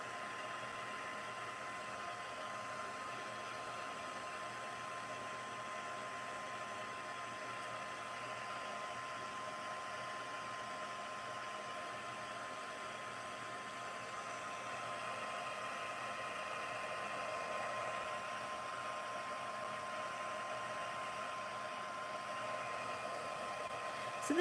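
A hair dryer runs steadily and fairly close, drying a 6x8 mixed media canvas, its continuous whooshing drone unbroken for the whole stretch with no talking.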